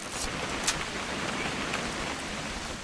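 Steady rain falls in the game What Remains of Edith Finch, a soft continuous hiss with a few sharper drip ticks, no voices present.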